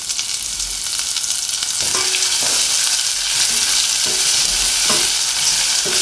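Chili flakes, paprika and spring onion sizzle loudly in a pan while being stirred, with a bright, continuous frying hiss broken by repeated scraping strokes of the spoon.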